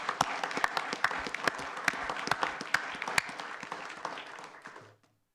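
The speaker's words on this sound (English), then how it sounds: "if we could get a round of applause for all those volunteers with the police department" A room at a village board meeting applauds police department volunteers: a short burst of clapping with distinct sharp claps that fades out and stops near the end.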